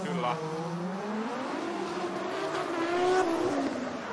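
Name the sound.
drift car engine revving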